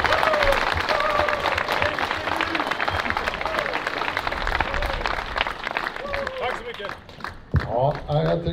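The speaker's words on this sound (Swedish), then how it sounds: "ska jag faktiskt få en jävla stor applåd" A crowd at a scrap-car race event gives Jonas a big round of applause, dense sustained clapping filling the whole stretch with voices calling out underneath and rising near the end.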